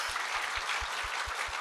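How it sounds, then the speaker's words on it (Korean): A church congregation bursts into sustained applause, dense and even throughout, with a low rhythmic thumping beneath it and no voices. "박수 쳐요, 박수 쳐, 박수."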